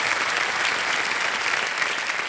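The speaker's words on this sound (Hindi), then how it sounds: "ताली बजती रही" A studio audience on the KBC quiz show claps loudly and continuously after a contestant wins a 3,20,000-rupee cheque, a full, steady wall of applause with no voices standing out.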